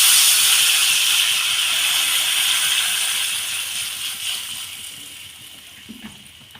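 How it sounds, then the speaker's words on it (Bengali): Mango chutney spice paste boiling after water is added, a steady close hiss and bubbling that slowly fades, with a few small knocks toward the end. "জলটা দিয়ে আমি মশলাটাকে একটু ফুটিয়ে নেব এইভাবে"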